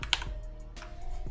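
Rapid clicking keystrokes on a computer keyboard during a coding session, a burst of close, crisp taps with a heavier strike near the start, no voices.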